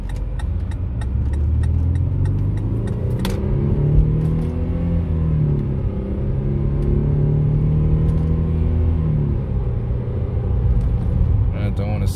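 A Mercedes W204 C-Class cruises on a highway at night, its engine and road rumble steady and loud from inside the cabin, with a soft shift in drone as Tiptronic gears change and a voice speaking over it.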